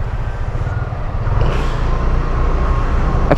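A car, identified as an Expander, passes on the road during a town fiesta trip, its engine and tyre roar rising and holding close and fairly loud for a few seconds.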